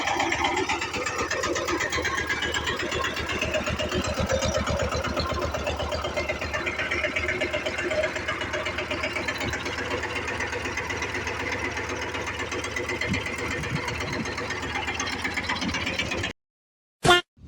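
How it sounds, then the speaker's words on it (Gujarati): A tractor engine is started and revved, running with a fast, rhythmic mechanical chugging for a long stretch, close and steady, then cuts off abruptly. "આપણે ટ્રેક્ટર ઘડીક ચાલુ કરીને રેસ કર્યું છે"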